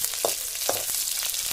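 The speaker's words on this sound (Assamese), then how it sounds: "জুইত ভাজিছো, এটা সোৱাদটো বেছি ভাল হ'ব।" Onion frying in a pan, a steady sizzling hiss with a couple of brief stirring scrapes, close and moderately loud throughout.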